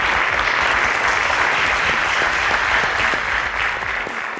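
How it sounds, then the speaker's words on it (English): Applause from the audience at a school quiz competition in Abuja, a full, even burst of many hands clapping that stays loud throughout and eases slightly toward the close. "Round of applause, please."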